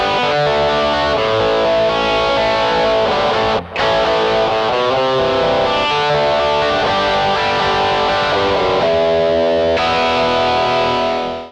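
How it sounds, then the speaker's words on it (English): A distorted electric guitar plays slow chord arpeggios with a thick, effects-laden tone, loud and sustained, with one brief dropout partway through. "So make sure you have the right tone if you're going to be doing distorted arpeggios in a slow chord format like that."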